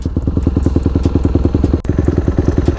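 A dirt bike engine putters steadily while ridden slowly along a trail in the rain, a loud, close, rapid thumping beat that stays even throughout, with one brief dip near the middle.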